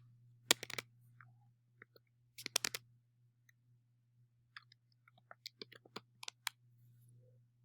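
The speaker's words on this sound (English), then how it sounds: "So I'm going to type in snatched," Keys tapped on a computer keyboard to type a single word, a few scattered clicks followed by a quicker irregular run of light taps, close and quiet over a low electrical hum.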